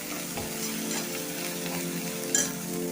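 Whole spices for misal tempering fry in hot oil, a steady close sizzle with soft stirring scrapes running throughout and one brief sharper crackle near the end; no one speaks.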